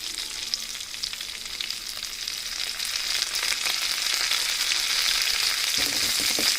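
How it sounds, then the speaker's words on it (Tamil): Curry leaves and dried red chillies sauté in hot oil, giving a soft, steady crackling sizzle that grows slightly louder, close and alone with no talk. "கருவேப்பிலையும் சேர்த்துட்டு நல்லா ஒரு வதக்கிடலாம்."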